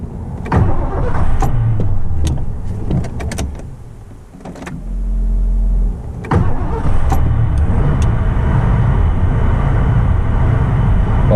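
A 1984 Ford LTD Crown Victoria under restoration, with a fuel pump fault: the engine cranks briefly with a low rumble, then catches and runs with a loud, steady roar heard close up, with no talking.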